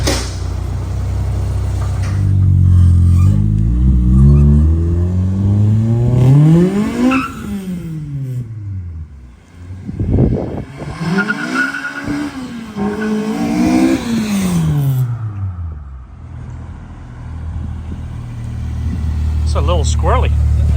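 A 2001 Honda Civic with a K24 engine, swapped from automatic to manual transmission, accelerating hard with tires spinning and chirping, the engine note rising through the gears, dropping on a shift and climbing again, loud and close.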